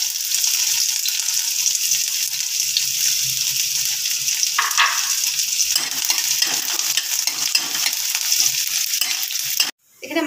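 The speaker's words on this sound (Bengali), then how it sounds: "এই পেঁয়াজ কুচিটা আগে তেলে দিয়ে দিচ্ছি" Very finely chopped onion fries in hot mustard oil with a loud, steady, close sizzle that shifts in texture partway through as it is moved about, then cuts off abruptly near the end.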